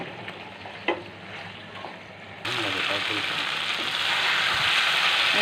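Chicken for a dry roast fries in a pan as spices and roasted cumin powder are stirred in; a soft scrape and stir gives way to a loud, steady sizzle, with a voice talking early on.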